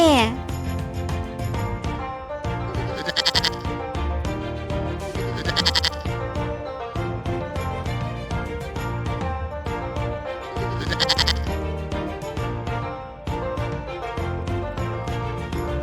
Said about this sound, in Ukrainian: А це коза. Вона говорить ми.